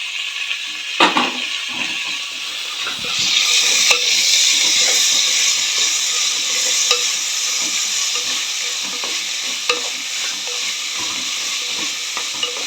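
Potato, tomato and other vegetables stirred in a hot pan for vegetable khichdi, a steady loud sizzle with occasional scrapes and clinks of the spoon, no voices.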